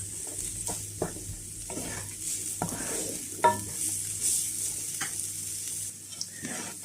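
Sweet corn stirred in a frying pan while making fried rice: a steady close sizzle runs throughout, broken by repeated scraping strokes of the spatula against the pan, with no talking.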